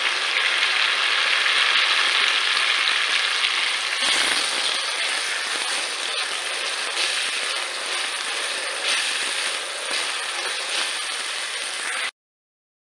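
Chopped tomatoes hitting a pan of ginger and garlic fried in oil for palak paneer, giving a steady, bright sizzle that fades a little and then cuts off abruptly, with no talking.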